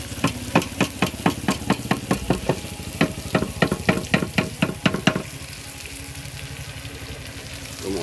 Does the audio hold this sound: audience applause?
no